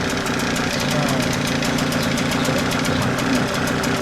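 A small long-tail boat engine of about five horsepower, exhaust venting near the propeller, runs steadily with a continuous mechanical drone and rapid ticking pulses, loud and close throughout, while someone talks over it.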